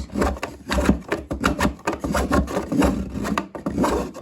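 A white chocolate bar is scraped against a grater in a home kitchen, producing repeated close rasping strokes in a steady, fairly loud back-and-forth rhythm with no voices.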